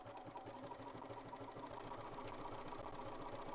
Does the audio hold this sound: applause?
no